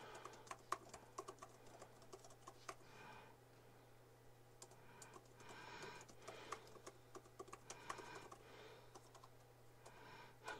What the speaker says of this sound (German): machen einfach mal so eine Schreibprobe